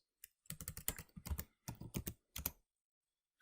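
Keys on a computer keyboard clatter in short, close bursts of rapid typing, separated by brief pauses and ending in quiet.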